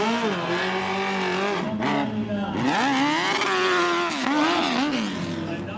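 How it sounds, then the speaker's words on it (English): A Harley-Davidson hill climb motorcycle, a cross between a sport bike and a dirt bike with a big engine, revs and roars steadily with rising and falling pitch, loud and sustained, with crowd or commentary noise beneath. "Now notice this bike right here. It's kind of a morph between a sport bike and a dirt bike."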